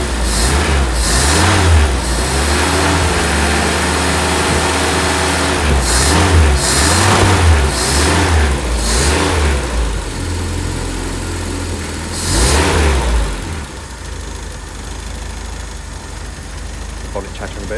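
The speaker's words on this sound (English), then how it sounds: "Nice responsive engine." A 1968 Triumph Herald engine idles loudly up close and is blipped repeatedly, with quick rhythmic revs rising and falling over the steady rumble before the engine drops back to a plain idle.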